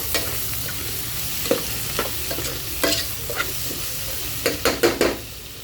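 Coriander and cumin powders are stirred into a sizzling paneer masala, a loud continuous fry hiss broken by several spoon scrapes and pan knocks, clustering toward the end.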